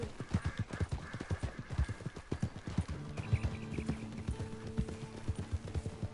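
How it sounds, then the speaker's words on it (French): A horse galloping in Red Dead Online, with rapid rhythmic hoofbeats close up throughout and a low steady tone joining under them partway through. "Moi là, je suis en train d'être en cheval."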